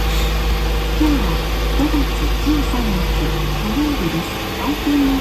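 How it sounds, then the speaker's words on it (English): An accident-damaged car at a Japanese auction idles with a low, steady engine drone that never changes pitch, while a voice talks over it. "Okay, the engine is turned on."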